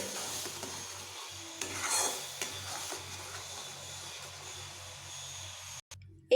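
Pieces of ridge gourd are stirred in a pan of hot oil, giving a continuous scraping sizzle with a few louder strokes of the spatula, close by, with no voices.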